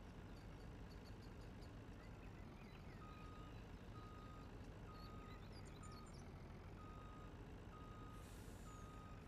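A truck in the video game Farming Simulator 19 reverses with a steady, evenly spaced series of beeps over a constant loud engine drone, with a brief air-brake hiss near the end.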